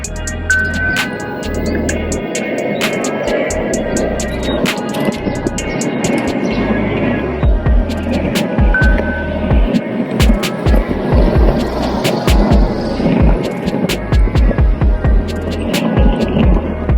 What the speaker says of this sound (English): I'm on the skateboard, so I might as well cut around and have a blast through it.